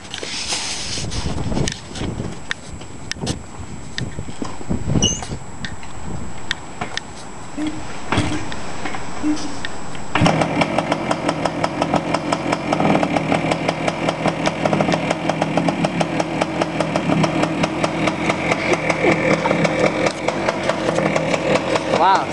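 A 1971 Yamaha 175 motorcycle is kicked over cold: a few scuffs and kicks of the starter, then at about ten seconds the engine catches and settles into a steady, rapid, popping two-stroke idle, close and loud, continuing to the end with no talk.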